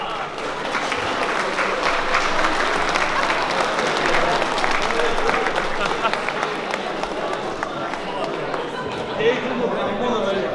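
An audience claps steadily through the full stretch at a Juhász ball, a folk dance event in Oroszhegy, Hungarian-speaking Transylvania; the dense, sustained applause fills the hall at a loud, even level.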